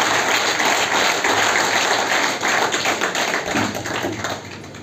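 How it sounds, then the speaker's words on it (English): A college audience breaks into loud, dense applause at a welcome ceremony for a new principal, many hands clapping close and continuously before slowly easing off. "Dr. Mohd Shafi Lone, please give me a big piece of applause."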